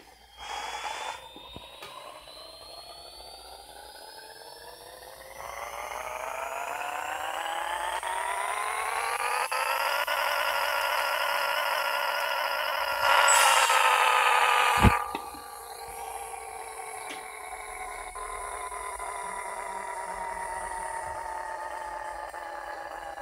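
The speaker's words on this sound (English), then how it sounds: "let's do the dyno test real quick" A Nissan R35 engine in Pixel Car Racer revs on a dyno, its pitch climbing steadily to the rev limiter, bouncing there, then dropping off and settling to a steady drone, loud and alone.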